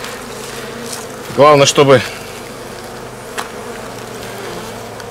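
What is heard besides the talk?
honey bees at a hive during syrup feeding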